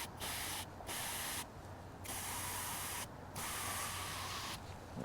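Compressed air from a nozzle hisses into a cylinder head port of a 1961 Imperial in short bursts, steady loud sprays broken by brief pauses, with no talk.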